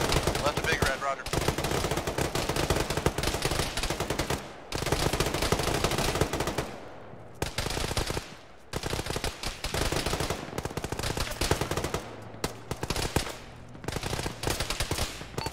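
Sustained machine gun fire in the military combat game Arma during a ShackTac engagement with a BMP, long loud bursts with only brief gaps, voices faintly under the gunfire.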